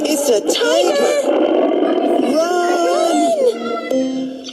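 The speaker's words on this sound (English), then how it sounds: "It's a tiger." Tiger roar voiced by a person during a children's storytelling session, a loud, close, growling wail with wavering pitch that lasts several seconds and then trails off.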